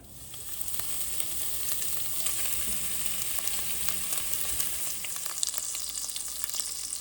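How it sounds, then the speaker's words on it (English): Pork fat rendering in a cast iron pot makes a loud, dense, continuous crackling sizzle with fine popping throughout, close and alone with no talk. "this will be first for 40 minutes going into a cast iron pot, and we get it very soft and let the fat run out"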